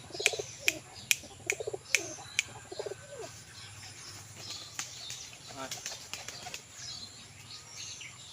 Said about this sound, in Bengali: কবুতর দেখেন কত সুন্দর ডাক ডাকটা কিন্তু অসাধারণ